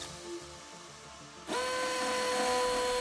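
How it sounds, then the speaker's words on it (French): A Ryobi R18PD7 cordless hammer drill in percussion mode spins up with a 6 mm bit against an exterior wall. After a quiet start, a loud, steady whine begins abruptly and holds to the end. "On passe sur le perçage d'un mur extérieur avec un foret de 6 mm"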